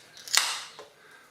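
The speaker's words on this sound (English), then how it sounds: "let's crack open the can" A beer can, a hazy NEIPA from Mountain Culture Beer Co., cracks open with one sharp pop followed by a brief fizzing hiss that fades over about a second; close and alone.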